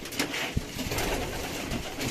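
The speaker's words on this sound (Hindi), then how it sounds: "नहीं कबूतर ही नजर आ रहे हैं रजा भाई।" Pigeons, including Royal Daddy and other fancy breeds in a rooftop loft setup, coo softly in short repeated calls over a busy background, close and moderately faint.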